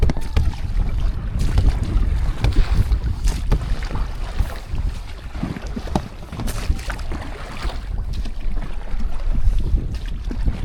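Gusty wind roars across the microphone on Jones Lake, British Columbia, from a small paddled boat, with intermittent splashes and knocks, continuous and fairly loud.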